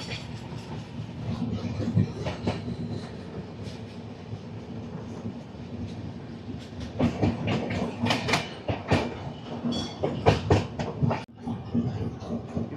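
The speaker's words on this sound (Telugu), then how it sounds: "ఇది చాలా చిన్న ట్రైన్" The Puri-Howrah Shatabdi Express, a short eight-coach train, rolls on rails, heard from the second coach behind the engine as a continuous rumble with rhythmic clickety-clack bursts that grow louder and sharper toward the end.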